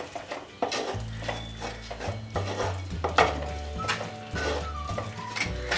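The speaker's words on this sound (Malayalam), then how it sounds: "നന്നായിട്ട് എല്ലാം കൂടി ഒന്ന് മിക്സ് ചെയ്ത് കൊടുക്കാം." A spoon stirs chilli powder masala in a pan for a Kottayam-style fish curry with kudampuli, giving close, irregular scraping and knocking against the pan over a faint sizzle.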